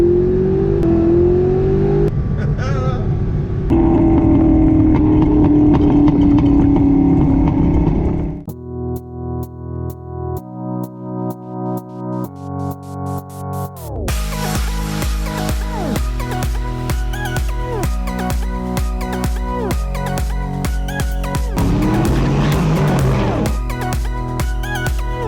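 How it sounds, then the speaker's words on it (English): A Fox Body Mustang breathing through 15-year-old FlowMaster mufflers idles and revs in repeated loud bursts, with a choppy pulsing stretch midway before rising and falling engine revs resume, close to the listener. "what 15-year-old FlowMaster mufflers sound like."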